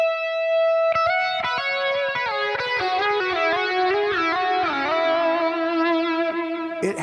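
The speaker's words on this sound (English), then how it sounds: "I have a flanger on the left and a phaser on the right, and there's a little bit of different delay on each side." An electric guitar runs through flanger and phaser effects split left and right, with different delays on each side and light reverb. Ringing chords and plucked notes swirl and sweep with trailing repeats, loud and alone.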